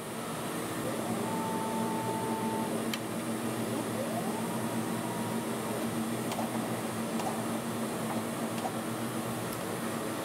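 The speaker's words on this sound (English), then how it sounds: "So now we're going to put it on the mass spectrometer." A GCMS mass spectrometer runs with a steady mechanical drone and fan-like hum, joined by faint tonal whines and occasional soft ticks, loud and unbroken throughout.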